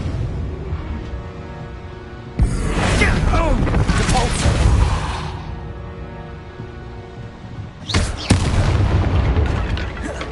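Bombarda blasting spell in the Hogwarts Legacy video game: two loud booming bursts, the first sustained for a couple of seconds with rumbling debris, the second shorter near the end, over a steady game background.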